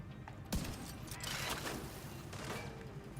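A sharp gunshot rings out in the video game The Division 2, one distinct crack near the start followed by rumbling, scattered shots and ambient battle noise, fairly faint overall.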